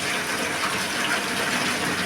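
A rain-swollen waterfall rushes down from the mountains near Mahad, a continuous dense roar of flowing water, steady and unbroken, with no one speaking.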